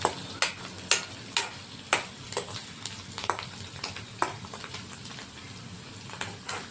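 Paneer fries with garlic in a pan, a constant crackling sizzle punctuated by sharp ticking pops and spoon clicks every half second or so, close and moderately loud, with nobody speaking.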